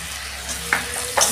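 Tomato with ginger garlic paste sizzles in a pan for a prawn malai curry, a soft steady frying hiss broken by two quick stirring scrapes near the end.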